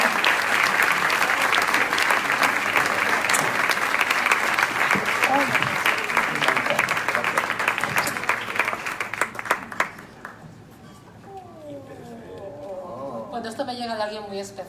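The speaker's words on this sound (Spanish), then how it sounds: "Un aplauso hombre" Loud, sustained applause from an audience at a live book presentation, steady for about ten seconds before tapering off, with a voice speaking over the fading claps.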